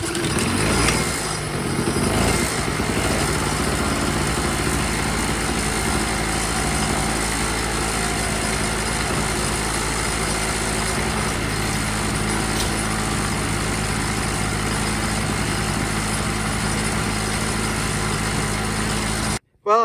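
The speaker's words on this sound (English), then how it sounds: "If you have this little generator and it starts, it runs, and then it just dies." A small 2hp Chicago generator engine kicks over after a brief rough start and settles into a steady, buzzing high-pitched idle that runs continuously and close, cutting off abruptly at the end without any voices.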